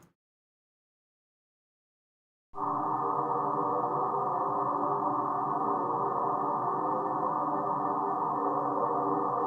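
Synthesized evolving soundscape made in VirtualANS with an echo effect, entering after a couple of seconds of silence as a steady, dense sustained drone that holds evenly to the end.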